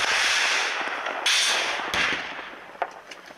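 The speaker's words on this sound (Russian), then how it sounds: "огонь из снайперских винтовок «Драгунова», автоматов «Калашникова», гранатометов «РПГ-7», крупнокалиберных пулеметов" Military training fire from Dragunov sniper rifles, Kalashnikov rifles, RPG-7 grenade launchers and heavy machine guns at a range, heard as a dense wash of distant shots and blasts with a few sharper cracks standing out near the end.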